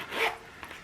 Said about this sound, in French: petite fermeture éclair.